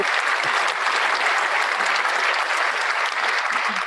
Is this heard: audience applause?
yes